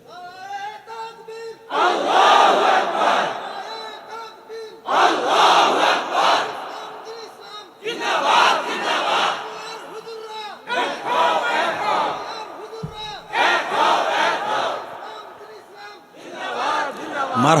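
A large crowd at a religious gathering roars takbir in loud unison, with several long shouted bursts separated by short pauses, filling the space from nearby.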